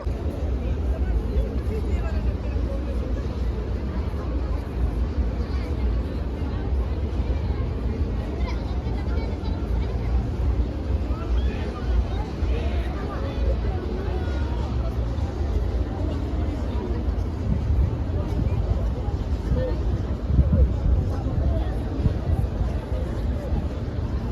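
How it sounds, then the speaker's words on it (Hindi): Strong wind blowing in the open air near the mosque in Madina, buffeting the microphone as a continuous low roar, with people talking and crowd babble underneath. "बहुत ज़्यादा हवा चल रही है माशाल्लाह यहाँ पे"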